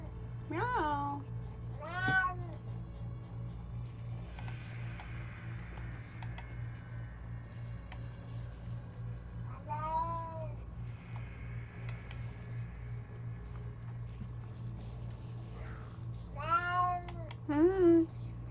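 A cat in the video game Diablo III meows several times, with short rising and falling calls spread over a steady low game hum and faint mechanical clicking, and no talk.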